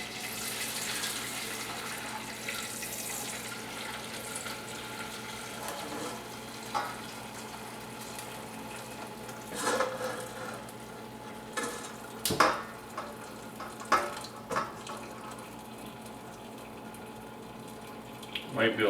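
Chicken stock from a pot of simmered chicken and bones poured slowly through a strainer in a home kitchen, a steady close watery pour with a few clatters and knocks of the pot and strainer.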